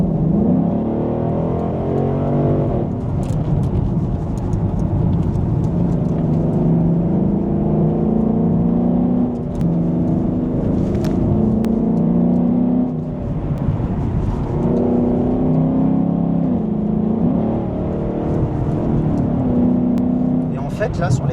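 A Ford Mustang GT/CS engine pulling hard on a road, heard from inside with a rising rev that breaks briefly at each gear change and then climbs again, loud and steady, with someone talking over it.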